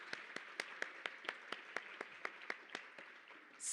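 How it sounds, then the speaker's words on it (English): Applause at an urban board conference session, a steady rhythmic run of fairly sharp claps spaced about a quarter second apart, faint and distant over a quiet room. "we can definitely give a round of applause for the first half of all of our speakers"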